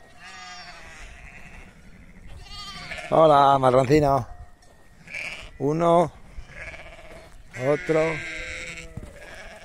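Ewes with newborn lambs bleat loudly and close in several separate calls, some long and quavering, while someone speaks between them.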